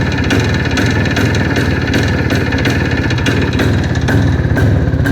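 Close, loud motorcycle engine running continuously, a dense idling rumble with steady mechanical pulsing and no pauses.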